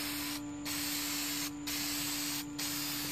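Paint sprays from an aerosol can onto a 3D printed object in three short hissing bursts with brief pauses between them, close and steady over a faint electrical hum.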